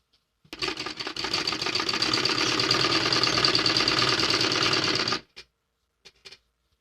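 A sewing machine stitching a heavy Patiala salwar runs in one steady, close, loud burst of about five seconds, followed by a few faint clicks.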